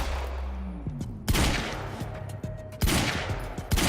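Rapid gunfire bursts from the video game Quantum Break, several short volleys arriving about every second and a half over a low, rumbling game backdrop.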